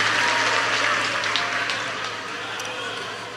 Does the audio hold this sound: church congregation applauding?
yes